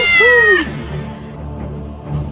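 A cat gives one short, clear meow up close, a quick rising-and-falling cry, followed by quiet background sound.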